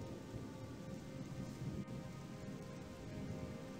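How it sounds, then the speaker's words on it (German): Heavy, steady downpour in the video game Gothic II, a dense continuous hiss of rain pattering on surfaces with a low rumbling undertone, constant and enveloping throughout with no speech. "aber da es hier gerade regnet wie Sau"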